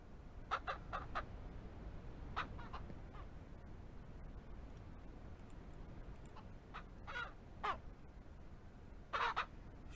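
Chickens in a Ranch Simulator farm coop cluck in short scattered bursts over a steady low ambient hum, several birds calling at moderate distance, with a louder cluster near the end.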